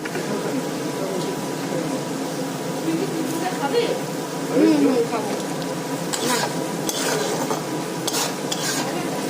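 Onions frying in oil for a Bengali home-cooked meat dish, heard as a steady sizzle with stirring scrapes and utensil clinks against the pot, while people talk over the cooking.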